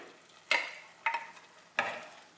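A spoon stirs lentil curry with coconut water in a pot, giving three distinct scraping, sloshing strokes at uneven intervals, close and fairly clear against a quiet background.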